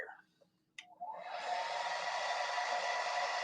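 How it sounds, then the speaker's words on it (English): A steady, loud rush of blowing air switches on after a brief pause and keeps running evenly, close by, with no talking. "let me dry these with the hair dryer really quick"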